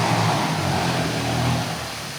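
A vehicle exhaust silencer rumbles steadily and fairly loudly at a comedy poetry gathering, a continuous low drone with no talk over it.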